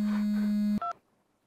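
A phone tone buzzes steadily, then cuts to a brief two-tone electronic beep before falling silent, clear and close with no talking.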